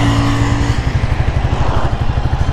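A Royal Enfield Classic Reborn motorcycle engine runs loud and close on a test ride, with a steady low thumping beat that continues without a break and no voices.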